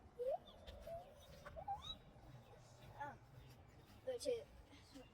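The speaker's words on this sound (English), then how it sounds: "the noise is coming from over there. That is a northern mockingbird." Bright, varied northern mockingbird calls chirp and whistle in short phrases at a distance in a backyard, with a person speaking quietly underneath.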